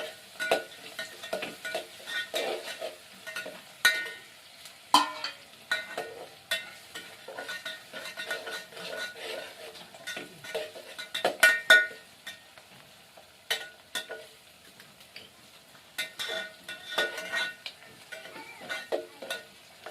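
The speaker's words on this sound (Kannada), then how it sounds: "ಇದಿಷ್ಟು ಶೇಂಗಾ ಹಾಕೋತೀನಿ ರೀ ಎಣ್ಣೆಗೆ." Peanuts fry in hot oil in a village kitchen pan, with a soft sizzle under repeated scraping and clinking stirs of a utensil against the metal, close and fairly quiet.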